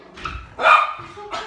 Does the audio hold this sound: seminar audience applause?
no